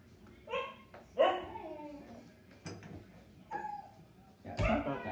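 A pet dog indoors gives several short barks, yips and whimpers in scattered bursts, fairly close and moderately loud, with quiet gaps between.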